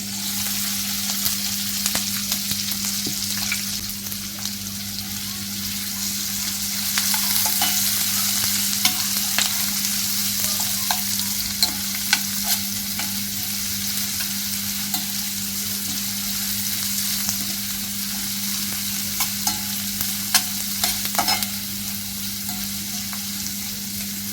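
Onion fries in a pan while being stirred, a continuous close sizzle with scattered scraping and clinking of the spoon against the pan, under a steady low hum and without talk.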